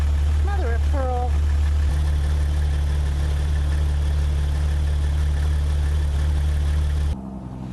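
A Jeep Cherokee XJ idles steadily while warming up, a low, even engine drone that holds unbroken throughout, with a brief voice near the start and a slight drop in tone at the very end.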